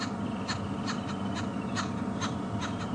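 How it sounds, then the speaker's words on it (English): A babbler bird calls repeatedly in short harsh bursts, fairly near, across an evening safari drive at Djuma Game Reserve, over the steady rumble of a vehicle. "There's another bird called a babbler that you can hear calling."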